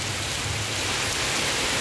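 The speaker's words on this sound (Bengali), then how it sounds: "খুব বৃষ্টি হচ্ছে" Heavy monsoon-style rain pours down steadily over a street with water running into the drains, a dense, unbroken hiss close by with a low rumble underneath and no pauses.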